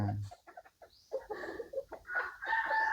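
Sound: chicken

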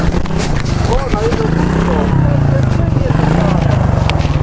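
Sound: motorcycle engine

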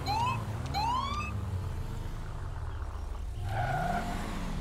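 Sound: police car siren in video game LSPDFR (GTA V mod)

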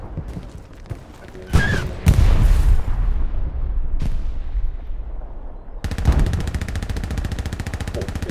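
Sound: machine gun fire in video game Hell Let Loose

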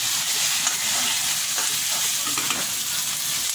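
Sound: frying chicken with ginger garlic paste

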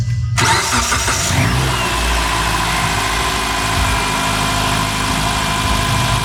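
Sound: car engine starting and idling

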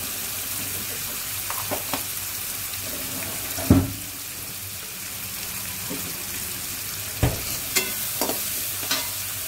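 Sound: onion and green chilli frying with cumin and asafoetida

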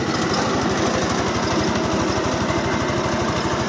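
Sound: converted Forte 10 walk-behind tractor milling soil with one-metre rotary cutter

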